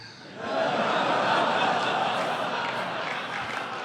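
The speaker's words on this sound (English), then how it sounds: "Weird joke to clap for, but sure." A stand-up comedy audience applauding and cheering after a joke, a dense sustained wash of clapping that swells in and holds steady, mixed with crowd murmur and laughter.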